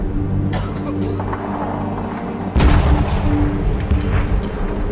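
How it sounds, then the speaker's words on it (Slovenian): Artillery cannons booming beneath the Julian Alps in wartime, a loud rolling rumble with a heavy blast partway through, followed by sharper echoing reports suggesting gunfire. "Že leto in pol pod vrhovi julijskih Alp bubnijo topovi in odmevajo mitraljezi."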